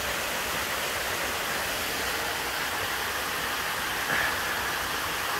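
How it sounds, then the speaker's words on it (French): Water pours over a cascade in a small canyon of the Grosse Roche ravine in Martinique, a steady, dense rushing roar that stays even and close throughout with no voices. "si on voit au-dessus de la première cascade 8 mètres, un petit canyon sympa"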